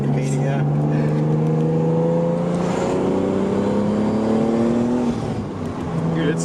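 Turbocharged RB30 engine in an R33 Skyline accelerating hard on low boost, a loud sustained rising drone with climbing harmonics that holds for several seconds before easing slightly near the end.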